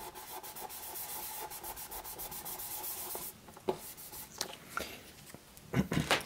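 Hand sanding across a wood finish during a furniture finish repair gives a soft, rhythmic scratchy rubbing in quick regular strokes, close and quiet, becoming more irregular toward the end.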